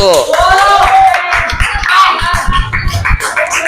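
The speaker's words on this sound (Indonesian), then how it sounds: "Kita tepuk tangan buat kelompok 1." Students in a Grade 8 junior high classroom clap for a group, with broadband hand claps running throughout at close range and voices talking over them.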